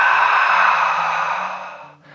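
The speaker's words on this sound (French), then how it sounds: "On contracte le centre du corps et on vide les poumons." A long, forceful exhale empties the lungs during a Pilates warm-up at home, a close, breathy rush lasting about two seconds that fades out, heard alone.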